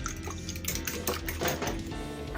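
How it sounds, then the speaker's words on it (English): A fork clatters quickly against a bowl as egg is scrambled, a brisk, continuous clinking and scraping close up, with no talking. "Take a fork or chopsticks and scramble well."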